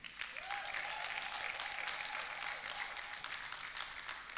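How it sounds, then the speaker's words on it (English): An audience at a Ghana business event gives a round of applause, an even, sustained patter of many hands clapping at moderate distance, with no talk over it. "I think they deserve a round of applause."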